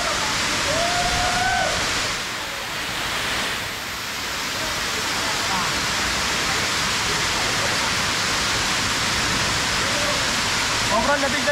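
Balagbag Falls, a waterfall in Quezon, pours in a steady, loud broadband rush for the whole stretch. Voices call out briefly over it near the start and at the end.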